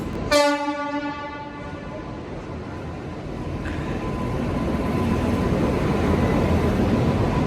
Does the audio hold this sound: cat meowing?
no